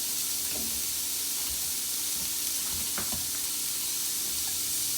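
Vegetables frying in vegetable oil and lamb fat, a loud continuous hiss and sizzle with a few faint stirring knocks underneath.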